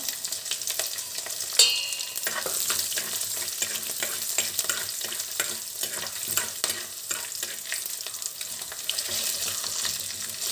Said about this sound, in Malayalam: അതിലേക്ക് ഇടിച്ചെടുത്ത വെളുത്തുള്ളി ഇട്ട് കൊടുക്കാം